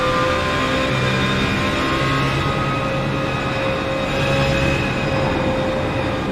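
Onboard a BASF-liveried BMW race car in a virtual racing league at VIR, the engine drones steadily at high revs with a tonal whine, loud and unbroken, no voices.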